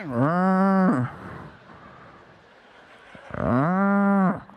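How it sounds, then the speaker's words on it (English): A cow on a street in India gives two loud, close, drawn-out moos with a quieter gap of street noise between them. "There's a cow crossing the street while we're driving."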